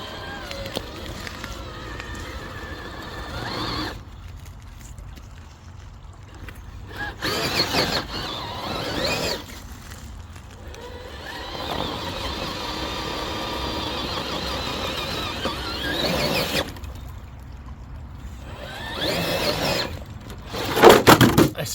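Cross RC EMO JT4 RC truck with grippy tyres and low-down weight, its electric motor whining in surges as it attempts a bank climb, with short pauses between runs and someone talking over it.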